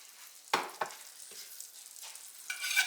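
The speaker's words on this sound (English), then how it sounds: "I'm just going to stir that a little bit together." Flour being stirred into pan drippings in a frying pan to start a gravy, heard as a few quiet, separate scraping strokes against the pan under a faint background sizzle.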